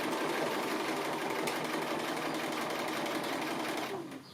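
A sewing machine stitches appliqué with grey thread, a close, steady, rapid mechanical whir and rattle that runs continuously and slows to a stop at the very end.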